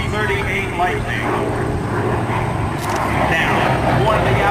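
P-38 Lightning aircraft engines droning with a steady propeller hum at an air show gathering, loud and sustained while a commentator talks over the sound.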